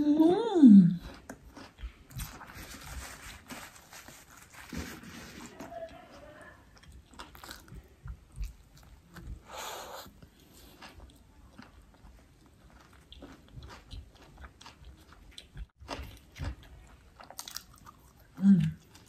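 Someone bites into a hamburger and chews it, with soft crunching and wet mastication sounds coming in uneven bursts, near and fairly quiet, with a louder bite at the start and another near the end.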